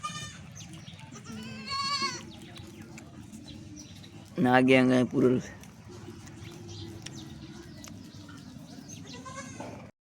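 Goats bleat amid a farmyard scene, one loud, wavering bleat standing out in the middle, with people talking nearby and other animal calls scattered around.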